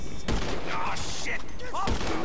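Gunfire in GTA 5, heard as a couple of sharp thumping shots over continuous game noise, with voices and other game sounds mixed in.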